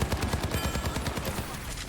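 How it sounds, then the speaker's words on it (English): Rapid automatic rifle fire from Soldier 76, boosted by Mercy in the Overwatch video game, rattling in a steady fast stream of close, loud shots throughout. "the Mercy boosted Soldier rounds is crazy"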